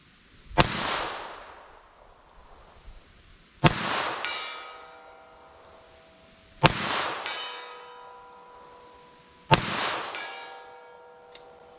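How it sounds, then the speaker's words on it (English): A snub-nosed revolver fires .38 Special wadcutters at a steel target 225 feet away, four sharp shots spaced about three seconds apart, each followed by a delayed ringing metallic clang that decays slowly, with no talking. "I'm shooting a snub-nosed revolver at 225 feet away"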